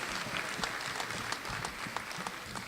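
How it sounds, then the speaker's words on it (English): A round of applause at a university honors recognition ceremony for award recipients, steady and fairly faint, heard from a distance across the hall. "a round of applause for our Business and Economics Award recipients"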